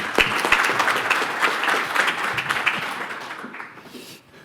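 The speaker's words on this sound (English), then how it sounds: "Give him a round of applause, everybody." Audience applause at a cyber risk panel event, a dense steady clapping from a crowd that holds strong for several seconds and then fades out.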